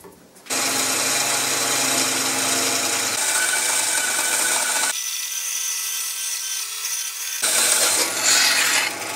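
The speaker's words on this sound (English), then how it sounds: "So I'm going to cut that piece out there" Wood being sawn to cut out a repair piece for mid-century modern furniture: continuous, loud rasping strokes that change pitch and texture in several distinct stretches, with no talking.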